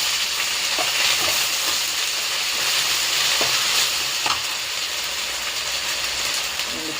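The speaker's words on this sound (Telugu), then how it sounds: "1 టేబుల్ స్పూన్ అల్లం పేస్ట్ వేసుకొని కొంచెం బాగా వేగనివ్వాలి" Ginger paste frying in hot oil gives a steady, close sizzle throughout, broken by a few brief utensil clicks and scrapes.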